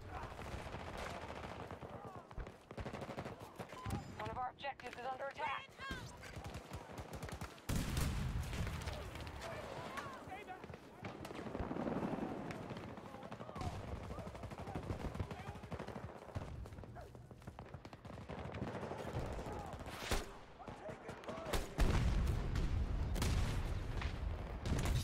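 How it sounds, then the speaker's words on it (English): Gunfire and explosions in the video game Battlefield 2042, with repeated bursts and booms over about twenty-five seconds and a heavy rumble toward the end, partly under people talking. "I shot the top of the building accidentally. Pulled out the wrong gun"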